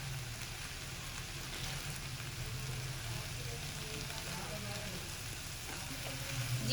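Chopped green onion tops sizzle steadily in a hot pan while cooking vegetables for restaurant-style Singaporean rice, a constant close frying hiss that rises slightly at the end.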